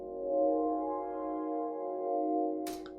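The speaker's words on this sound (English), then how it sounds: "So I'm just going to load this pad 3 here in GMS" A soft, sustained synth pad holds a minor ninth chord from an FL Studio house track, a warm steady tone with a faint click near the end.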